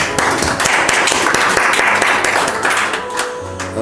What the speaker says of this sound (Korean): 또 환영의 박수 올립니다